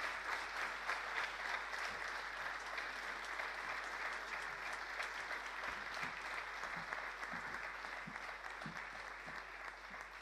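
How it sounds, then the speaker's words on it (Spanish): Audience applause at a live music performance, a steady wash of clapping from a crowd that holds evenly for about ten seconds with no talk over it. "Fuerte el aplauso."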